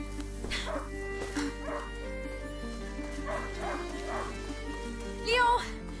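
A hunting dog in the video game A Plague's Tale: Innocence lost whimpers and gives several short yipping barks in bursts, fairly close, over a steady low background hum with game music.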